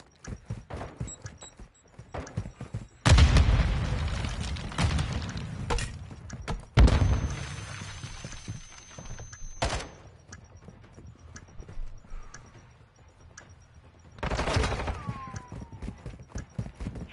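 Explosive devices detonating in a video game: several sharp, loud blasts and thumps scattered across the span, each decaying quickly, with quieter clattering and game sounds in between.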